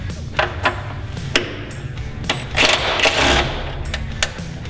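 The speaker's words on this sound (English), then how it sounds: "I'm telling y'all, impact wrench" An impact wrench with a 10 mm socket buzzes and hammers in short bursts while removing bolts in a Scion FR-S engine bay, with sharp metallic clicks between and one longer rattling run midway.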